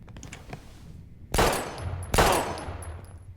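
Two loud, sharp gunshots from a gun hidden in the Life is Strange video game ring out about a second apart. Each one is a sudden broadband crack with a short ringing tail, over low background game noise, and no one speaks.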